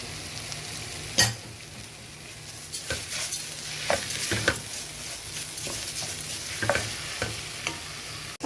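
Toasted orzo sizzles in a pot for a Quaker orzo soup, a soft, steady crackle marked by several sharp scraping stirs and clinks at irregular moments, with no talking.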